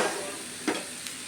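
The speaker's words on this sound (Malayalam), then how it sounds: "പിന്നെ ഞാൻ ബ്രിഞ്ചാളും എടുത്ത് പാനിനകത്ത് വറുത്ത് ഫ്രൈ ആക്കി" Brinjal fries in a pan with a soft, steady sizzle, broken by a brief scrape of stirring partway through; quiet and close, with no talking.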